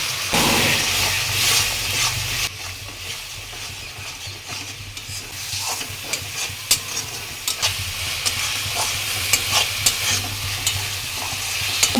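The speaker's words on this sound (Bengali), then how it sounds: "প্রথমেই দিলাম কাশ্মীরি লঙ্কার গুঁড়ো লবণ স্বাদ মতো হলুদ গুঁড়ো এক চামচ সামান্য জল দিয়ে মশলাটা আমি কষিয়ে নেব" A spice paste of Kashmiri chili powder, turmeric and salt with a little water sautéing in a pan for a fish egg curry: steady hissing sizzle with a dull low rumble and scattered spoon scrapes and clicks, fairly close.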